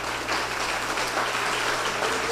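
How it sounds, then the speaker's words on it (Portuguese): A congregation at a church retreat sermon claps on the preacher's cue, giving a steady, moderately loud rustle of many hands that stays even throughout with almost no voices. "Toda vez nessa pregação que eu falar amém, você vai aplaudir"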